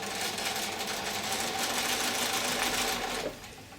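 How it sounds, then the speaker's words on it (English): A sewing machine with a quarter-inch foot runs continuously, sewing a curved seam on a cloth face mask. Its close, even whir lasts about three seconds, then stops abruptly. "going to simply sew with my standard seam length that first curve"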